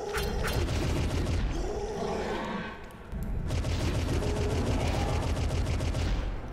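Automatic spread-shot Spear of Destiny gun in a Doom mod firing continuously, a dense loud rapid stream of blasts with a brief dip midway before the barrage resumes, no talking over it.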